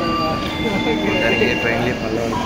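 A train rolls into a station with a steady low rumble and faint high wheel whine, continuous and fairly close, with no speech over it.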